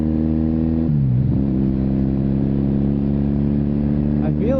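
A 1981 Kawasaki KZ440 motorcycle with a freshly sorted carburetor runs steadily close by, with a brief dip and recovery in engine speed and a slight rev near the end, under some talk.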